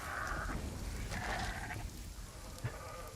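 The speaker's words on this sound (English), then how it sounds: "Those goats aren't very smart." Goats in the RuneScape Dragon Wilds video game bleat a few times in short, fairly faint calls over a soft background ambience.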